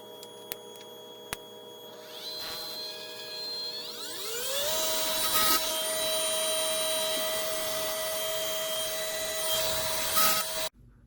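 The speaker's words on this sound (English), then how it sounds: "Now I'm going to power up the spindle while the rest are running and see if they run happily all at the same" Stepper motors on a homemade mini CNC mill whine with steady tones, then the spindle spins up with a rising pitch and settles into a loud continuous hum before everything cuts off abruptly near the end.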